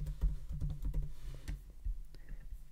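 Rapid, close-miked typing on a computer keyboard while working on a book cover design in Adobe Illustrator on a PC: a quick, uneven run of light key clicks that thins out toward the end, with no voices.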